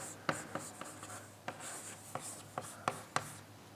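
Handwriting during a glaze recipe lecture: quiet, close scratching strokes and sharp pen taps in an irregular rhythm, with soft room tone and no speech.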